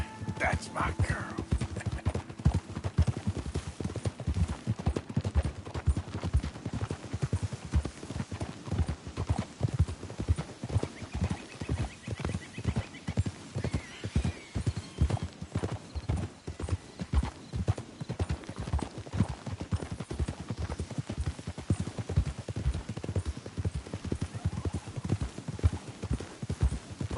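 Horses ride in Red Dead Redemption 2, their hooves clip-clopping in a brisk, steady rhythm that continues throughout, with faint voices occasionally in the background.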